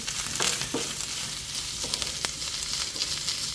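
Mushroom curry frying and sizzling in a pan as it is stirred, a steady crackling hiss with a few scraping knocks of the spoon, close and fairly quiet.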